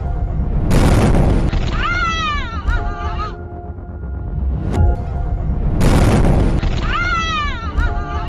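Tanker truck explosion after a rollover at speed on an expressway in Wenling: two loud, close booms with sustained roaring rumble, each overlaid by wavering whistling tones.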